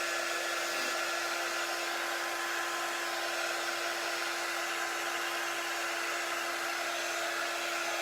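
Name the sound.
blow dryer running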